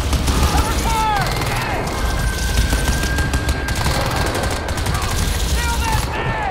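Rapid automatic gunfire aimed at an alien in the game Crysis 2, dense bursts of shots running continuously and loudly for several seconds with occasional sharper cracks, voices calling out over the shooting.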